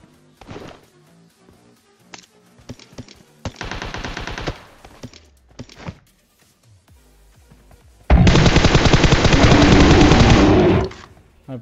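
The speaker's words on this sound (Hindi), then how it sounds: "अब सामने से ये बंदा फायरिंग करता है तो इसको मैं नॉक कर देता हूँ" Automatic weapons fire in a PUBG-style battle royale game: short separate bursts at first, then a longer rapid burst, and finally a loud, sustained stream of rapid gunfire lasting about three seconds, close and sharp.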